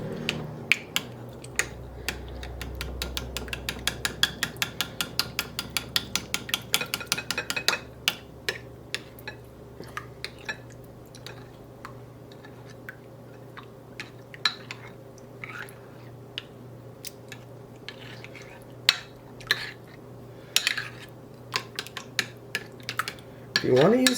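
A spoon or utensil clinks and scrapes against a bowl as breakfast ingredients are mixed, with irregular close taps and knocks continuing throughout.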